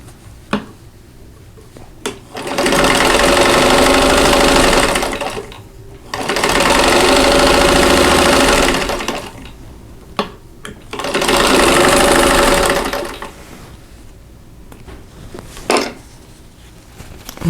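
A sewing machine joins quilt block pieces, a green four-patch and a yellow and white half-square triangle, in three loud, steady runs of a few seconds each, close by with brief quiet gaps and clicks between.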